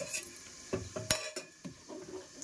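A metal cooking pot clanks and scrapes as rice is set on to cook in a home kitchen, several short, close knocks and clinks spaced irregularly, with no voices.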